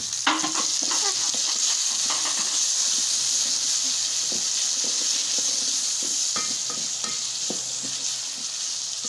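Courgette, tomato and capsicum fry in a pan, a steady hissing sizzle with clusters of crackles and light stirring clatter, close and continuous with no talk.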